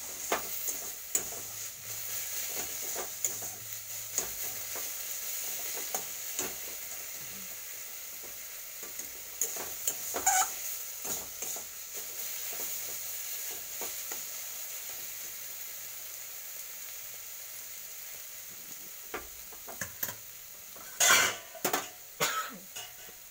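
Cooked red amaranth greens are tipped out of a frying pan: a faint steady sizzle with scattered utensil clinks and a few coughs, ending in sharper scraping knocks.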